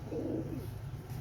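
Old-lineage Sialkot pigeons of the red-pearl-eyed type coo softly nearby, a low murmuring burst that rises and then settles into a steady hum, with no talking.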